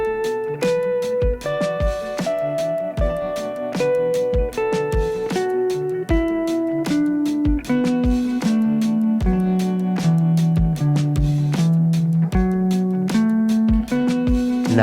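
Guitar playing a pentatonic scale shape slowly, one evenly spaced picked note at a time stepping up and down the scale, close and clear with no talking.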